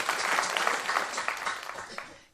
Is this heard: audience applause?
yes